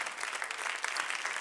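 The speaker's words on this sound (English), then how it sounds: "Let's give the Lord another hand clap of praise." A church congregation claps their hands in praise, a dense, lively burst of many hands clapping together, close and loud throughout.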